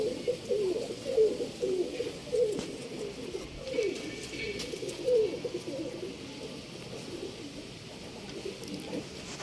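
A Sabja female pigeon cooing, steady low throaty coos repeating in a regular rhythm close by, with other pigeon sounds under it and no talking.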